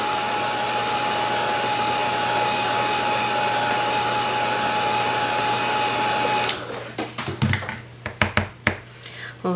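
Steady, loud whir of a heat tool or hair dryer drying acrylic paint on a stenciled Christmas stocking, droning evenly for several seconds before cutting off, followed by scattered handling clicks and taps.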